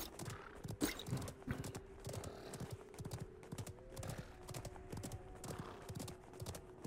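Horse hoofbeats in the video game Realm Royale, a quiet, steady clip-clop gallop running throughout over faint game ambience.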